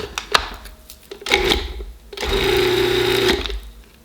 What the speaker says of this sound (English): we're just going to blend that up